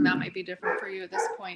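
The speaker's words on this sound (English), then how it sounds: "sorry about the dogs" Dogs bark and yip in short bursts, mixed in with someone talking close to the microphone.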